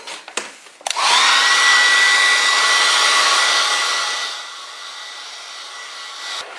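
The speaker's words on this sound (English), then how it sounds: "I can use a hairdryer here." A hair dryer switches on after a few clicks and blows with a steady, loud whoosh, drying a watercolour painting, dropping a little in strength toward the end.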